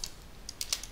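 A few light, quick computer keyboard keystrokes entering a conda command, faint and close, tapping irregularly with no talk.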